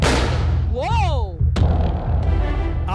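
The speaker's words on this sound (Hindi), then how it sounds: "ये धमाका आपकी सेफ्टी के लिए था" A fire extinguisher ball bursts with a loud blast amid commotion, followed by rumbling and shouting voices, with a rising-falling whistling tone near the start.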